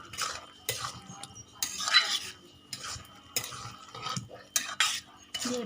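Fried spices are stirred into mixed vegetables in a pan, a series of short scraping strokes of a utensil against the pan with faint sizzling between them, coming in an uneven rhythm of separate bursts.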